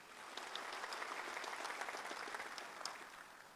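Seated audience at an Indonesian state ceremony with President Joko Widodo, clapping steadily in a dense, even patter heard from a distance, with no other sounds on top.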